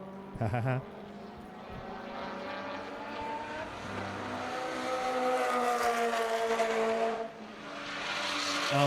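An Art of Attack Honda NSX time-attack race car drives the Buttonwillow track at a season finals event, its engine note rising and sustained with shifting pitch through a corner, heard at a distance under ambient crowd and commentary noise.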